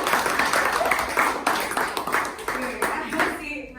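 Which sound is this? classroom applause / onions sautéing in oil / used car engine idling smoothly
classroom applause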